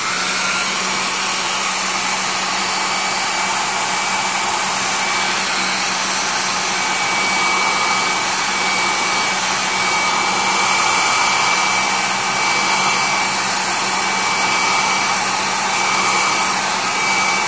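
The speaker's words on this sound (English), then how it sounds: "you're going to be hearing much of the dryer" Hair dryer warming a goalie glove to break it in: a loud, continuous broadband whoosh with a steady motor hum that runs unbroken and alone throughout.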